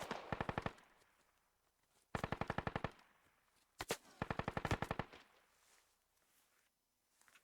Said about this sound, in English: friendly shooting at this position right here